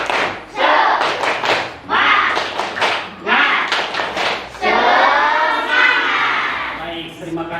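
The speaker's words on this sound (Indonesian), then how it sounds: "agar lebih semangat semuanya tepuk semangat" A group of teachers and trainees at an Indonesian training session performs a rhythmic patterned clap, bursts of loud hand claps in quick sequences with short pauses, ending in a sustained flurry of clapping.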